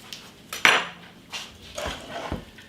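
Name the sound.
stirring lemon juice and butter in a pot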